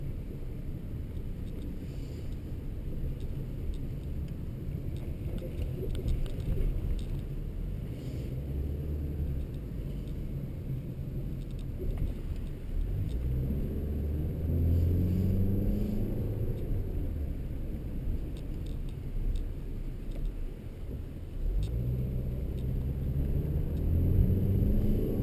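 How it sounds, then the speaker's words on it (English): A 2013 Ford Escape with the 1.6L EcoBoost engine heard from inside while driving: a low, steady engine and road rumble with wind noise, swelling slightly as it picks up speed, with occasional talk. "The regular pickup noise from the engine."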